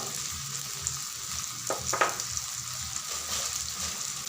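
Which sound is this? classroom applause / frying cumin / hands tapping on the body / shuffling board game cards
frying cumin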